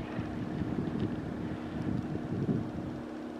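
Strong wind over Lac Normand, with whitecaps on the water at about 7 degrees, rushes and buffets the microphone in a steady low roar, gusting unevenly and with no voices.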